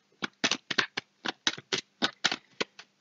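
Playing cards set down one after another onto a spread covering the nine of spades, a quick irregular run of about a dozen close, crisp slaps and flicks with no voice.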